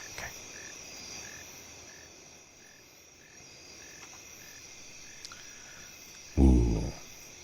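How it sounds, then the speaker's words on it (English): Crickets chirping loudly and steadily in the background, a continuous high pulsing drone with regular short bursts, interrupted near the end by a brief loud thump. "Oh, crickets are a little loud."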